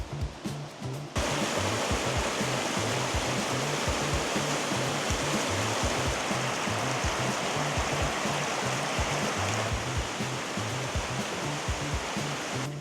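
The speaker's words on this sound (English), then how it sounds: "we're gonna check out this river right now" River water rushing over rocks near a treehouse retreat: a steady, dense roar of flowing water that continues unbroken throughout, with a low rumbling undertone.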